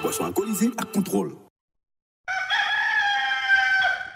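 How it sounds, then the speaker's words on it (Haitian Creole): A voice speaks at the start of a Haitian Radio Ginen station jingle, then after a brief silence a single loud, drawn-out rooster crow rings out close up. "Coq la chanté"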